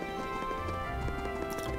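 Hooves clip-clop in a steady galloping rhythm from a horse in the video game Trails of Cold Steel, with game music playing underneath throughout.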